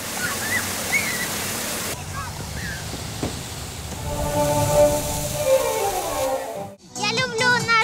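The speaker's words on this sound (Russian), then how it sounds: "Они с восхищением наблюдали, как струи воды, танцуя, меняют свое направление." Children play in a dancing water fountain, with steady rushing and splashing water throughout and children's voices calling over it, a brief dip near the end, then more splashing.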